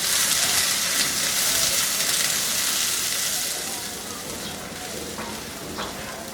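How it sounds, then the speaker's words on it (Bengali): Chopped onions, about half a cup, frying in a pan for vapa potol vorta, giving a steady bright sizzle that stays fairly loud before easing slightly toward the end, with no voices. "পেঁয়াজ একটু বেশি লাগে, দিয়ে আমি এখন এটাকে এর সাথে ভেজে নিব।"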